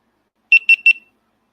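Three short, bright electronic beeps from a GoPro camera, evenly spaced and close, ringing out alone against silence.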